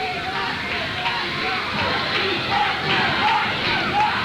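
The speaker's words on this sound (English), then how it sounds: "starting their chant of Rocky." A wrestling arena crowd chants 'Rocky' in a loud, steady roar of massed voices that swells slightly toward the end.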